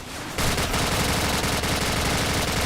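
Automatic gunfire in the video game Call of Duty: Modern Warfare: a loud, continuous rapid-fire burst that starts abruptly and runs steadily without pause, with no talking.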